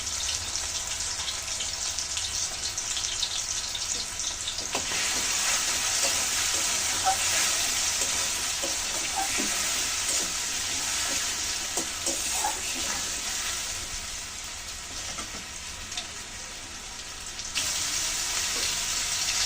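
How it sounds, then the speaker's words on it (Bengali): Potatoes frying in a pan with a little turmeric, giving a loud, steady, close sizzle that runs throughout with light stirring clatter and a brief dip in intensity near the end. "হালকা একটু হলুদ দিয়ে আলুগুলো সুন্দর করে ভেজে নেবো।"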